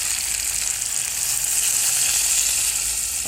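Mango curry simmering in a pan sizzles steadily after water is poured in, a close, continuous hiss of frying with no pauses and no voices.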